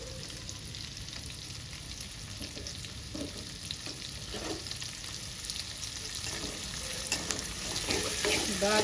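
Curry leaves frying in hot oil, a steady crackling sizzle with light stirring that grows slightly louder toward the end, no speech.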